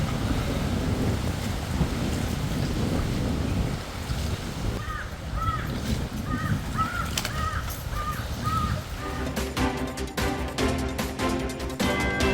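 Heavy monsoon rain pours steadily in the Western Ghats near Khanapur, Belagavi, as a loud wash of broadband noise; crows caw repeatedly midway, and a denser, crackling patter builds toward the end.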